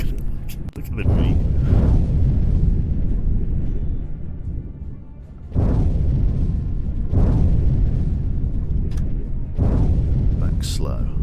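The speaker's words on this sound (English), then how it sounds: "Exploding right above us." Depth-charge explosions bursting above a submarine in the video game UBOAT: long, deep rumbling booms that swell and fade in repeated waves, loud and heavy, with a sharp crack near the start.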